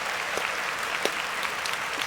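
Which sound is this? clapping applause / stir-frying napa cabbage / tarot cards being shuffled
clapping applause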